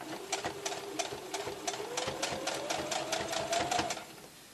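A sewing machine stitches a straight line down the centre of a decorative tea towel, its needle tapping in a fast, even rhythm with a soft motor whine underneath, close and fairly quiet.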